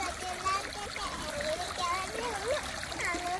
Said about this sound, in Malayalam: നമ്മള് തോട്ടിലാണ് നിൽക്കുന്നത്